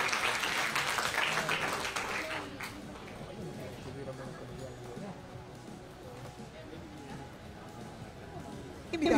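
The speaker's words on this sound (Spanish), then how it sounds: "Un aplauso cariñoso para reconocer este trabajo de nuestros periodistas." Applause from a gala audience honoring sports journalists rises briefly at the start, then settles into a softer murmur of clapping and crowd noise.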